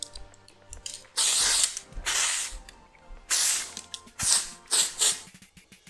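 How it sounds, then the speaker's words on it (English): Texture spray hisses through hair in a series of short, close pump bursts, some longer and some quick, with clicking of the nozzle between sprays. "I'm just going to spray the hair through with a texture spray to give me grip and texture through the hair"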